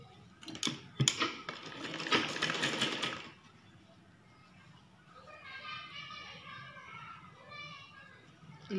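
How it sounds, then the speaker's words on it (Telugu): Sewing machine stitching blouse cloth: someone talks briefly over some handling noise, then the machine runs alone in a steady, fairly quiet rhythmic whir for several seconds. "ఇలా స్టిచ్ చేసుకోవాలి."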